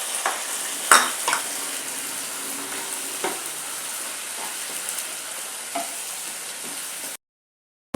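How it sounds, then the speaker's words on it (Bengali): A ginger, garlic, onion and chilli paste stir-frying in oil, giving a steady loud sizzle with a few clanks of the spoon against the pan before it cuts off abruptly near the end. "আর দিব একটু ভালো করে এটাকে নেড়ে চেড়ে ভেজে নিই"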